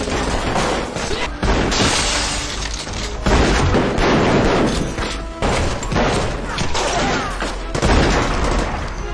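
Gunfire in a film shootout between mafia gangsters: a dense, continuous barrage of shots and booms with sharp bursts throughout, loud and close, under a narrator's voice.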